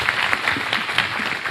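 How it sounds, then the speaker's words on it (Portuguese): Congregation in a church clapping together during a Sunday service, a short loud burst of many hands with a loosely pulsing rhythm, close and full. "Vamos aplaudir ao Senhor Jesus."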